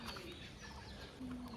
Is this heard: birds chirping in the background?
yes